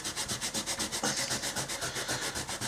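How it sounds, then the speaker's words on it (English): Hand sanding of a heavily oxidised diecast Mercedes-Benz 300E model body, a steady back-and-forth scratchy rubbing in even strokes, close and fairly quiet with no talk. "So I'll finish rubbing that down"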